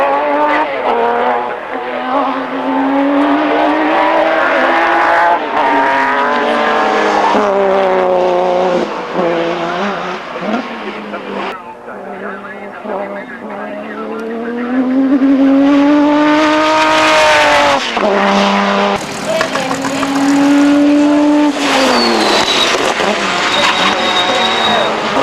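Historic Group C Commodore sports sedans race at Baskerville, a turbocharged six-cylinder VK against a V8, with loud, close engines rising and falling in pitch through gear changes as they pass, with a brief lull midway.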